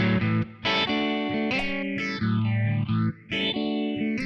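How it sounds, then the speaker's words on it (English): A classic analog phaser pedal on guitar, with inherent distortion, sweeping through sustained chords and notes; the tone swirls as the notch moves up and down, with several strummed phrases separated by short breaks. "Classical phaser pedal"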